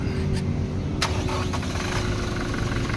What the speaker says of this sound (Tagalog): Okay, engine start, engine start.